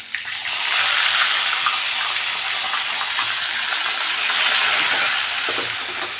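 Brinjal slices with turmeric and salt fry in hot oil, a loud, continuous, close sizzling hiss that swells briefly and holds steady throughout.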